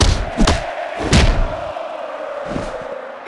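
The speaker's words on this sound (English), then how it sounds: "do you hear that crowd?" Crowd roaring in the WWE Mayhem mobile wrestling game, a loud arena swell punctuated by several heavy thuds and impacts at uneven intervals.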